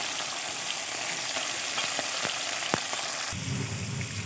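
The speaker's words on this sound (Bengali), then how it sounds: "কড়াইতে সর্ষের তেল দিয়ে দিয়েছি, দিয়ে এবার এক এক করে মাছগুলোকে ভেজে নেব" Parshe fish frying in mustard oil in a wok, giving a steady, close, dense sizzle with a few brief spatters and no talking.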